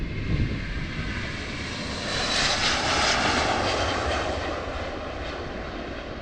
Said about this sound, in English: Going for Boston, Delta Airlines in this A330.